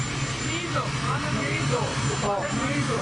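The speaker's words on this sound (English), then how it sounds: "you can hear the helicopter behind him" A helicopter drones steadily nearby as a continuous loud whir behind voices, with people speaking over it throughout.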